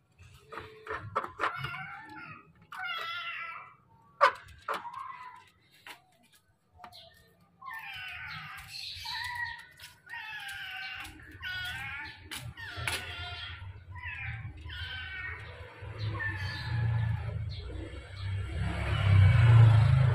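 A trapped kitten in an empty house meows repeatedly in short, high, plaintive cries, close and clear, while low rumbling handling noise builds underneath toward the end.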